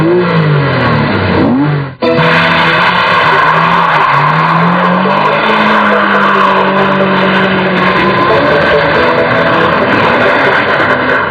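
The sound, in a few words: Porsche Boxster boxer engine revving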